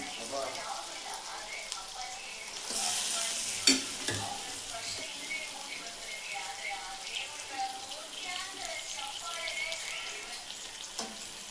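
Steady sizzling of country chicken frying in a pan, with a burst of stirring and clatter near the start, then continuous crackle throughout.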